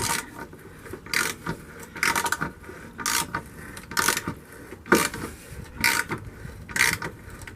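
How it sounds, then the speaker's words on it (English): A breaker bar tightening bolts on a fence post fixing against a wall, heard as repeated ratcheting clicks and grinding metal bursts at a steady rhythm, close and fairly loud with no talking. "You might need a breaker bar on that, mightn't we, to tighten them right up."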